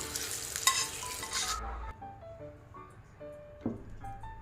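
Hot-oil tempering for amla tomato chutney sizzles sharply for the first second and a half, then quiets to soft crackles and light stirring clinks as it is added to the chutney.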